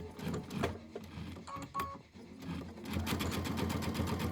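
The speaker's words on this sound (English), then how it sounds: "I'm going to go ahead and back stitch over this" A sewing machine back stitches through quilting fabric, its needle chattering in quick, close bursts that pause briefly midway before running on steadily.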